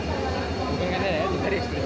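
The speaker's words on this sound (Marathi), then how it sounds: "जातो आहे सुपर एक्सप्रेस" An express train rushes past at a busy Indian railway station, a loud, steady low rumble and roar of wheels and carriages filling the whole moment while a crowd murmurs nearby.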